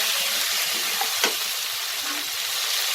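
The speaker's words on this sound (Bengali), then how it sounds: "ঝিঙেটা দিয়ে আমি 2-3 মিনিট ভালো করে নেড়ে নিয়েছি।" Ridge gourd sizzling and frying in a pan as it is stirred, a steady close hiss with soft scraping of the spoon and a faint clink, no talking.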